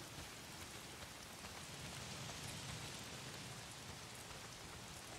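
Steady rain falls in the post-apocalyptic open-world game Days Gone, a dense, even hiss of drops on surfaces that continues without a break at moderate loudness and with no voices.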